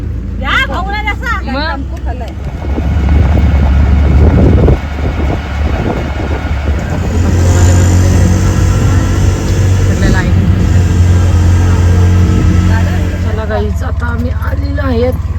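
Riding inside an auto rickshaw on a road, a loud continuous engine drone and rumble of the vehicle with wind buffeting the microphone, while people talk and laugh over it.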